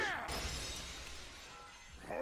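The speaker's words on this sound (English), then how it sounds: "Did you just go and shatter our last weapon?" A weapon shatters with a bright, ringing burst of breaking metal during an anime dungeon fight with a red dragon, loud and close, its crash ringing out into a lingering hiss.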